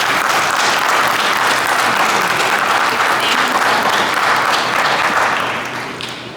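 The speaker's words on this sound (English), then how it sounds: "if you guys could give them a round of applause." Sustained audience applause fills a conference room, steady and dense for about five seconds before beginning to fade toward the end; no voices stand out.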